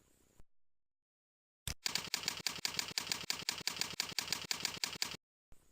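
Keys clatter in a fast, even rhythm of about twenty sharp, close clicks as a web address is typed, with short silences before and after.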